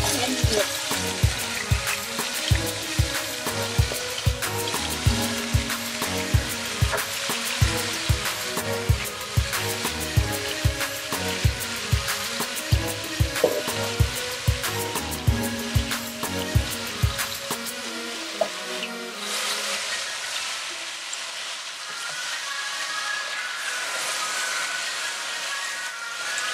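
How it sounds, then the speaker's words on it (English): Marinated chicken frying in a pan on medium heat gives a loud, steady sizzle broken by repeated clanks of stirring, and the clatter stops late on while the frying hiss carries on by itself. "Then add the marinated chicken and fry on medium heat for 8 to 10 minutes."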